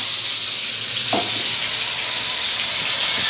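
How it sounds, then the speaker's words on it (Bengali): Onion paste hits a hot pan in a butter chicken dish, giving a loud, steady, close sizzle that runs throughout, with a couple of faint stirring scrapes under it and no voices. "এখানে পেঁয়াজ বাটা দিল"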